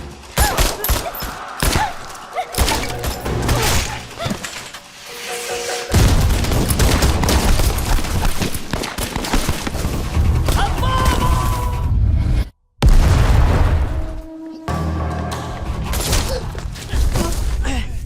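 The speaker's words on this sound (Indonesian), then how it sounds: "Dan setelah baku tembak yang cukup alot, Ujang akhirnya berhasil menembak Yinan" A gunfight in an action film, with dense, continuous gunfire, booms and heavy thuds layered over a dramatic soundtrack, loud throughout with a brief drop near the end.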